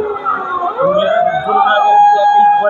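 A loud ambulance siren wails close by in a busy area near Dhaka Medical during street protests, its pitch sweeping and sliding as it passes at speed.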